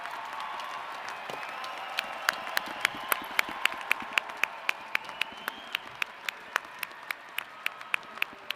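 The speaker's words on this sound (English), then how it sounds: "let's now have one more round of applause for all of today's" Commencement ceremony applause at UW–Madison fills a large hall as a soft, steady wash of distant clapping, with sharp regular clicks ticking through it.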